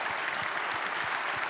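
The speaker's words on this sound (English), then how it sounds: "so that we can all give you a big round of applause" Audience at a Portsmouth business conference claps for standing cruise passenger volunteers, a dense, steady round of applause filling the room without a break.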